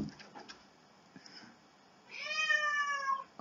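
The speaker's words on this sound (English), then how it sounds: "Please ignore my cat" Pet cat meowing indoors: a few soft, faint sounds, then one long, clear, drawn-out meow near the end, close by, with no talking.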